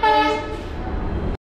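At New Jalpaiguri station, the Humsafar Express sounds one long, loud horn blast from nearby, which fades slightly before cutting off abruptly.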